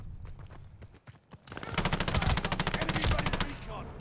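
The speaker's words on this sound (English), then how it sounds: "This gun makes me panic shoot like it's nobody's business" Rapid automatic gunfire from a gun in a video game, a dense burst of close, loud shots hammering for about two seconds after scattered earlier shots, with faint talk underneath.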